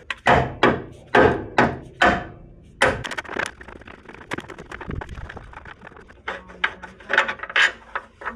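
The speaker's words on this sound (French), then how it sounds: "Je vais remettre l'écrou, pardon, et taper dans l'écrou plutôt que de taper... déjà pour décoller." A hammer strikes a nut to free a seized car ball joint bolt during suspension work. A rapid series of sharp metallic blows comes first, followed by scattered, lighter knocks and scraping nearby.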